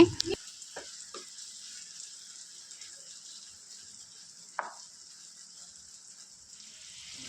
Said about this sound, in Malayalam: ചെമ്മീൻ കാൽ ഭാഗം കുക്കായി വന്ന് കഴിയുമ്പോഴത്തേന് ഒന്ന് ഇളക്കി കൊടുക്കണം കേട്ടോ